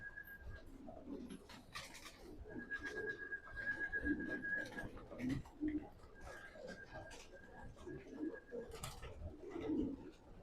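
Pigeons, fighters and stock birds, coo softly and repeatedly in a loft, with a steady high whistle-like tone running through and faint background voices and rustling.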